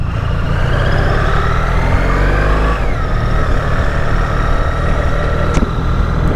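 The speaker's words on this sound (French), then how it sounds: "Premier tour de roue sur la 1300 GS." A BMW R 1300 GS motorcycle setting off, engine drone rising in pitch as it pulls away, loud and continuous under heavy wind rush, with a short click near the end.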